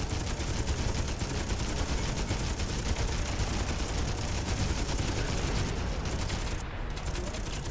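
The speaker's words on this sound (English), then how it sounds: "Hopefully, I can burn through this machine gun ammo so I can get back to using my missiles soon." Sustained automatic gunfire from a ship-mounted machine gun in the space shooter Miner Wars, a dense, continuous rattling stream of rapid shots that fills the whole stretch at steady loudness without pause.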